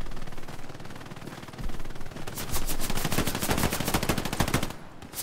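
Machine gun fire in the WWII shooter Hell Let Loose on Omaha Beach, starting as a muffled distant rattle, then a loud, rapid sustained burst of close automatic gunfire for several seconds before easing off.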